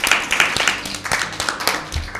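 Audience applause at a Lent season Bible quiz, a dense burst of clapping with sharp individual claps standing out; it stays steady and fairly close for the whole stretch, with no talk over it.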